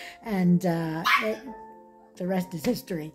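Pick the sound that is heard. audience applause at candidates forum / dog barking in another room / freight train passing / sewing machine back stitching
dog barking in another room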